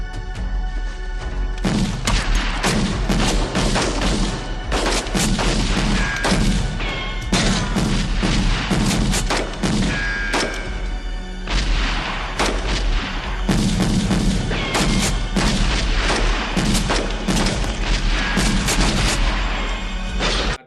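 Gunfire from the firing squad scene in Halloween 4, dense continuous volleys of loud shots and crashing booms filling the whole stretch without pause.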